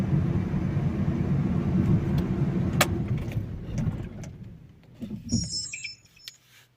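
A Fiat Doblo 223 with the 1.9 JTD diesel engine runs with a steady low rumble close by, which dies away after about four seconds, followed by a few clicks and faint mechanical knocks, with no talking.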